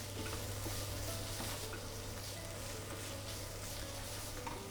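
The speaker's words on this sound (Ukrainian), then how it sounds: "І смажимо, доки морква так само не стане прозора" Carrots sizzle steadily in a pan while a utensil stirs and scrapes intermittently, a soft, continuous frying crackle.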